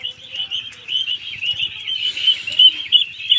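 Caged birds on a farm chirp in a dense, continuous high twittering chorus, close and fairly loud, rising a little toward the end.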